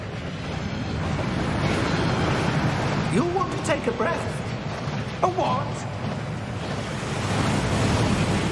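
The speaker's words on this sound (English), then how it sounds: "That waterfall washes away all enchantments. It's a security measure." The Thief's Downfall waterfall inside the Gringotts vaults in Hogwarts Legacy roars as a constant rushing wash of water, with a couple of short spoken lines over it.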